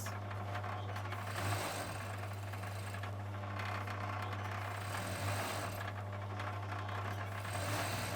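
An overlocker serges the outside leg seam of a pair of pants, a continuous close mechanical whir with a strong steady hum and slight rhythmic pulsing, running alone without talk.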